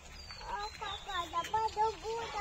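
A chicken in a park gives a run of short, quick clucks, fairly faint, with a person's voice mixed in.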